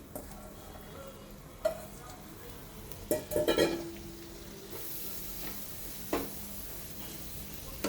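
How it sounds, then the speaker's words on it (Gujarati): Tomato pieces sautéing in a pan over a low flame for tava paneer bhurji: a soft, steady sizzle broken by a few scraping stirs and light clinks of a spoon against the pan. "ટમેટા બરાબર સતળાઈ જાય ત્યાં સુધી એને લો ફ્લેમ પર શેકીશું."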